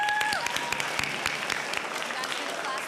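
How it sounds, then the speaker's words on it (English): School assembly audience applauding for about three seconds, a steady wash of clapping with some voices mixed in and a brief tonal sound near the start. "So round of applause."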